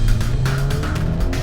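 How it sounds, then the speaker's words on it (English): Sports car engine at an autocross start line, a Mazda MX-5 ND Miata or Subaru BRZ, idling then blipped with short revs, close and loud with no talk. "give it some revs. Off we go."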